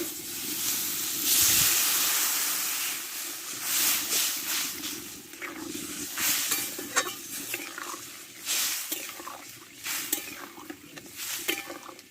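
Water poured into a hot pan of spiced potatoes for a fish-roe curry, hissing and sizzling loudly at first, then settling into steady bubbling with intermittent scraping and stirring, close and continuous with a faint voice murmuring underneath.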